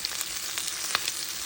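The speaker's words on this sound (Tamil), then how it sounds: "அப்படியே இது பொரியமாக மிதமான சூட்டில் வறுக்கலாம்" Marinated fish frying in oil over medium heat for tandoori fish makes a steady close sizzle, with faint crackles and pops and no talking.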